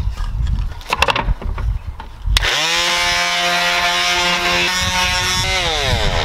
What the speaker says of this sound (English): So we're gonna just use a sander and uh, some 80 grit sandpaper.